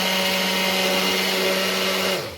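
An electric mixer beating cake batter for an orange cake, a loud continuous motor whine with steady tone that holds throughout, then drops in pitch as it slows at the very end.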